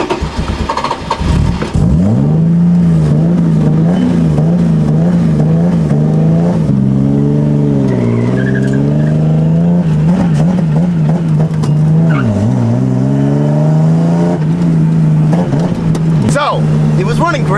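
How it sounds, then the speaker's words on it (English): A competition car's engine revs and bogs as it drives around, loud and close throughout, with the pitch rising and falling in uneven pulls before cutting off near the end; voices talk over the engine. "we're gonna just drive this thing around"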